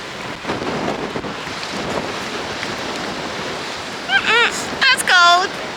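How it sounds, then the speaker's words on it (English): Seaside wind and surf at Streaky Bay, South Australia: a rough, steady wash of waves and gusting wind buffeting the microphone, with brief voices and a short whistle-like call near the end. "It's a bit windy this afternoon."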